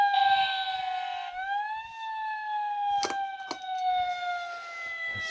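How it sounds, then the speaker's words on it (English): An electronic police siren from a Hot Wheels Ultimate Garage toy playset sounds a steady, bright wailing tone that swoops in pitch, with a few sharp plastic clicks and taps over it. "it starts this police siren."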